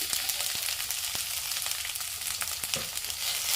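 Chopped okra sizzles in hot oil in a pan for a Kerala-style curry, a steady bright crackle with scattered sharp pops and faint stirring, close and continuous with no voices.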